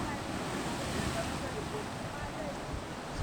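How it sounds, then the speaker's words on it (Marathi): Ocean waves surge on the Konkan shore at Ganpatipule beach, a dense, unbroken roar of surf mixed with wind buffeting the microphone, loud and steady throughout. "काय लाटा उसळत आहेत."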